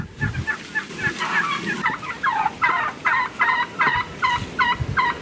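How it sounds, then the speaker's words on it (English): Several wild turkey gobblers gobble repeatedly in the field during a hunt, their rapid rattling calls coming in quick, closely spaced bursts, fairly near and loud over a low outdoor background. "Now the gobblers are attacking Tom's bird."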